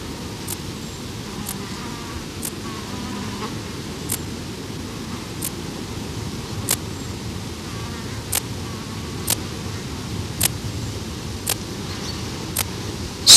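Flies, bees and other flying insects buzz near a small predatory spider, with a steady low hum beneath a series of sharp, evenly spaced clicks, recorded close and without voices.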